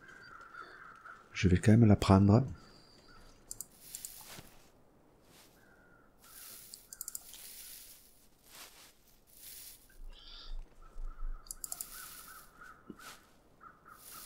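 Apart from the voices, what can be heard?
crow cawing in the video game The Long Dark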